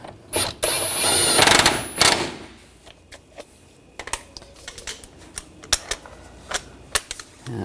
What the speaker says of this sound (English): Now tighten the spindle nut.